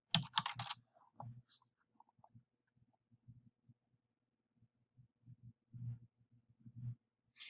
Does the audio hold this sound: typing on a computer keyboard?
yes